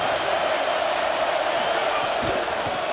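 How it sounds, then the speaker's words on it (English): A stadium crowd roars in the college football video game NCAA 27 during a Sacramento State dynasty game, a dense, loud, continuous wash of cheering with a voice talking over it. "Listen to this crowd just shaking the girders of this place"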